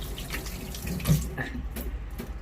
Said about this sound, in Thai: ล้างมือก่อน